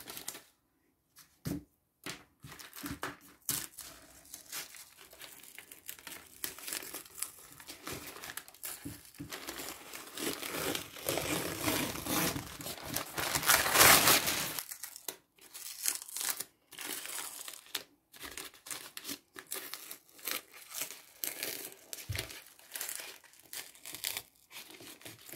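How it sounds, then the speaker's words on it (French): Adhesive tape being peeled away from a painted canvas, a long crackling, tearing rasp that builds to a louder rip as it tears gesso off the canvas edge, with softer crinkles before and after. "Tellement bien posé le scotch que ça arrache le gesso de la toile à l'extérieur."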